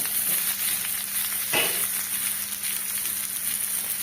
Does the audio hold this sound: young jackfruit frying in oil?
yes